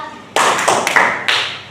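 Sharp hand claps in counted sets during a classroom activity, a few loud separate claps with short gaps between them, close and clear with no talking over them.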